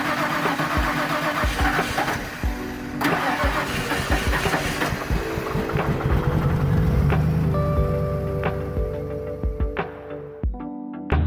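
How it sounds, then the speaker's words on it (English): A 1991 Mercury Grand Marquis V8 with a misfire on one cylinder cranks and fires up, then settles into a rough, uneven idle, loud and close. "The engine developed a bad misfire on the number 1 cylinder and was often chugging along on only 7 cylinders."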